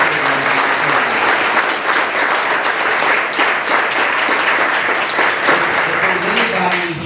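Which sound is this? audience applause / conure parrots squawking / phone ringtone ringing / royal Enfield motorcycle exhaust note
audience applause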